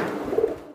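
Domestic pigeons at a pigeon market, with a single low, soft coo rising briefly in the middle over a steady murmur of background birds, close by.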